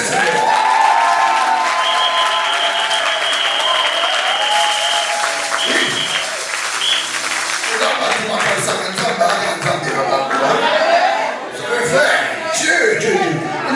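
A church congregation cheers and applauds the Lord, with loud, sustained clapping and shouts filling the room throughout, mixed with voices and music.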